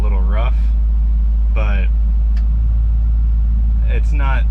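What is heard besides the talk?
restomod truck on air bags driving around town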